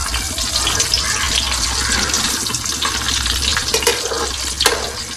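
Bitter gourd (karela) frying in hot oil in a pan, a steady, dense sizzle with a few brief sharper crackles, close and continuous with no voices.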